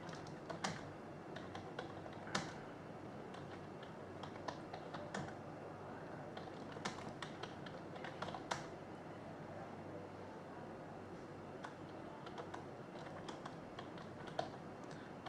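Quiet, uneven clicking of keys on a computer keyboard as a note is typed into an events screen in accounting software, short bursts of taps over a low steady room hum, with no talking.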